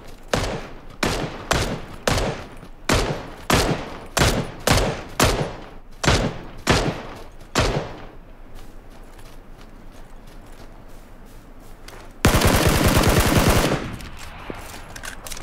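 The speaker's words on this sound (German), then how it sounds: "Ja, auf den hat er geschossen" Gunfire in the video game PUBG: a loud run of evenly spaced single shots, followed after a pause by a dense burst of rapid automatic fire near the end.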